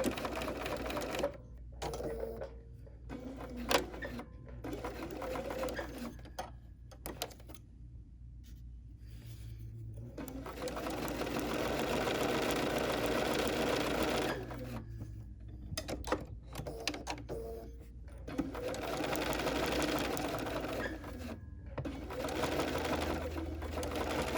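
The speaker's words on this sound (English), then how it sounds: "So we're going to stitch a few stitches. Go backwards." A Bernina sewing machine runs in bursts, stitching forward then reversing to back tack, its motor whirring steadily at close range with brief pauses between runs.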